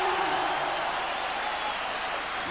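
Football crowd at Kilmarnock's ground during a Scottish league match against Hearts, a broad steady roar of cheering and applause filling the whole stretch, dense and sustained without a break.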